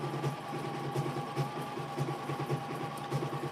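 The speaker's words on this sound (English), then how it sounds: "You're sewing on your simplicity." A Simplicity sewing machine stitching steadily, a rapid even mechanical whir with rhythmic needle thumps, close and moderately quiet, with no talking.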